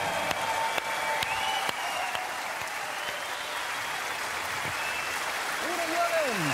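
Studio audience at a live German TV show in Trier gives Udo Jürgens a standing ovation, with steady, dense applause filling the room while a voice speaks over it briefly.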